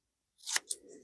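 Scissors trim paper for a papercraft project in two quick close snips, a louder cut followed by a shorter one, then a faint rustle of paper in a quiet room.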